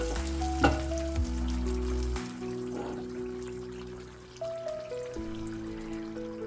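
Fried onion beresta tipped into a hot pan for chicken wings with butter daal, giving a steady sizzle beneath louder background music, with a brief clatter near the start.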